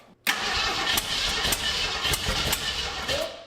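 A long-idle, previously seized Jeep Grand Wagoneer engine cranks with fuel added to the carburetor bowls, a steady rhythmic starter churn with periodic heavier pulses, loud and close, without catching.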